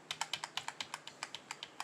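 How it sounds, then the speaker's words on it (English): A single keyboard key is tapped repeatedly in quick, even succession, a steady series of sharp close clicks about six per second. "clicking on delete a zillion times"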